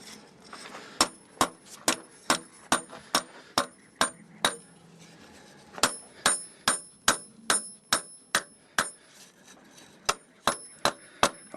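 Steady metal hammer blows beating a small bevel line into a metal blade edge, about two strikes per second with ringing taps, a short pause midway, then the same even rhythm resuming.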